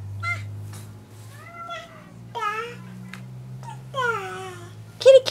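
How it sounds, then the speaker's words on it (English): Several meows from a house cat, some drawn-out and rising, heard over a steady low hum, with a voice and an adult talking nearby and a louder squeal near the end. "Where's the kitty cat?"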